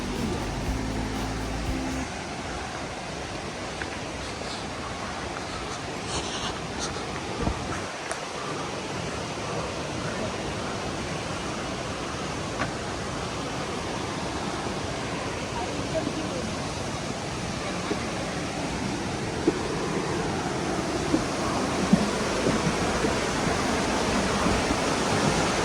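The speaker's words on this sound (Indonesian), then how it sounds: "Aliran air di sungai yang deras terdengar semakin dekat." Swift river water rushes steadily nearby on a tropical mountain trail near Mount Latimojong, a dense broadband roar that holds constant throughout, with a few faint knocks and rustles.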